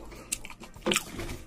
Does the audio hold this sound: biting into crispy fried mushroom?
yes